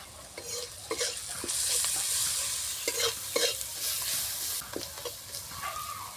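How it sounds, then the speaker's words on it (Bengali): Ground turmeric, cumin, chili powder and salt are stirred in a sizzling pan in a village kitchen, with repeated scraping strokes of a spatula over a steady frying hiss. "ভালো করে মশলাগুলোকে নেড়ে চেড়ে দিয়েছি"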